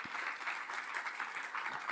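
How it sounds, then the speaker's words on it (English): Applause for lightning talk competitors at an academic plant sciences symposium, a steady, moderately faint patter of hand claps from a seated audience filling the full two seconds without any voice. "Let's give them one more big round of applause together."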